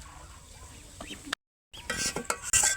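Food is stirred in a pot over a kitchen fire, soft scraping and clinking of a utensil against metal in short bursts, interrupted by a brief silent gap, with faint background noise.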